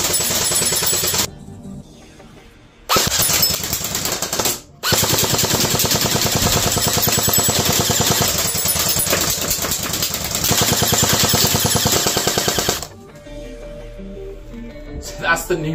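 Nuprol Delta Pioneer Defender airsoft rifle firing on full automatic, loud rapid bursts of mechanical clatter and buzzing cycling, several sustained strings of fire broken by short pauses.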